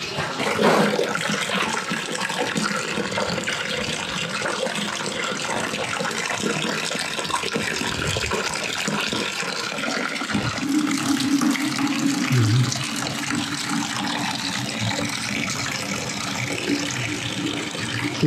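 Water leaking and dripping from a homemade solar collector, heard as a steady broadband rush and spatter of running water that continues throughout, close and fairly loud.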